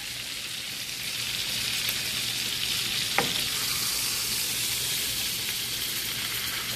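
Steak searing in a hot pan, giving a steady loud sizzle and hiss throughout, with one brief clink partway through and no voices.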